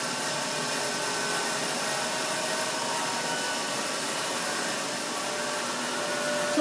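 An Oliver 2416 36-inch bandsaw, newly rebuilt and well balanced, coasts down after power-off with a steady, even whir and hum, loud and close, with no talking over it.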